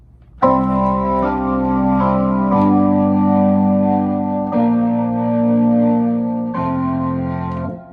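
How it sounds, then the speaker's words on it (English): Sustained organ chords played on a Yamaha CSP150 digital piano's organ voice, each held for a couple of seconds before shifting, full and steady with no talking. "You can go from that to an organ, for example."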